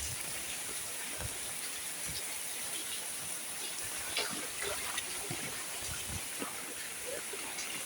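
Steady rain falls over a flooded village with standing water everywhere, a dense continuous hiss with scattered close drips and splashes throughout, with no clear voices.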